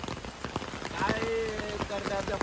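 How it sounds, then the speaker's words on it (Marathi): Heavy monsoon rain pours steadily onto surfaces in Vasai, a dense continuous patter with tonal sounds and faint voices underneath. "पाऊस नाही थांबत"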